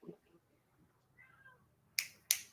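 A cat gives a faint, short meow in a quiet room, followed by two sharp clicks close by.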